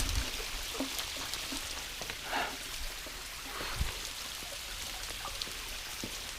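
A waterfall pours steadily over a person rappelling down a rope through it, a continuous broadband rush and patter of falling water close by, with occasional sharper drips and splashes and no talking.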